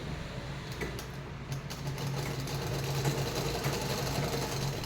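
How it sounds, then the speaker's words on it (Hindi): A sewing machine stitches a folded collar in a steady, continuous mechanical hum and rattle, close and fairly quiet, with no talking. "ऐसे फोल्ड करके और मैं ऐसे सिलाई कर दूंगी इसको"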